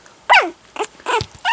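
A puppy gives four quick, high yappy barks in a row, close by, with short gaps between them.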